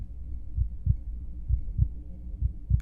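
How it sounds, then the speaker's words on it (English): A low heartbeat sound effect in an Undertale comic dub thumps in steady paired beats, muffled and deep, with no voices over it. "Is that Sans heartbeat, maybe?"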